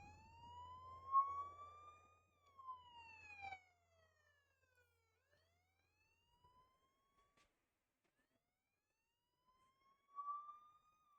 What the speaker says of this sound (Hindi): तब उस सायरन की आवाज़ आती है, तो गलती से वो ऑन रह गया था